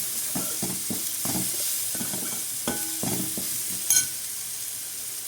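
Baby corn tossed with salt, chili powder and pepper powder for baby corn Manchuria, a series of close scraping stirs and soft knocks over a faint steady sizzle, with one brief sharper clink.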